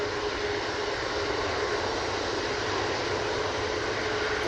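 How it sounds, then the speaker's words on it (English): A Boeing 787-8 Dreamliner takes off from Manchester Airport with a loud, steady jet engine roar that holds evenly and unbroken across the whole stretch, with no voices over it. "That's off to Ibiza using the 787-8 Dreamliner"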